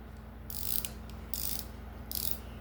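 A DURATECH extra-long anti-slip flex-head ratcheting wrench clicks in three quick, crisp bursts, close and clear, with a faint steady hum underneath.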